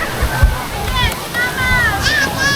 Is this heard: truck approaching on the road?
no